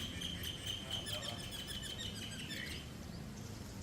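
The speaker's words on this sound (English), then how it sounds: "And the birds, oh my goodness," Birds sing outside by a pool, faint repeated chirps and trills over a steady insect-like buzz and soft outdoor ambience.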